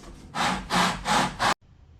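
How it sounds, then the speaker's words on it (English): Four rhythmic rasping strokes of a flat sanding board rubbing across wood, close and fairly loud, each back-and-forth pass distinct before it stops abruptly. "I'm using a flat sanding board"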